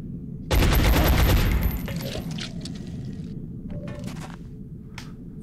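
A burst of weapon fire from the XCOM Enemy Within strategy game kicks off loudly, followed by a rattling decay and a few small metallic clinks as the shot resolves.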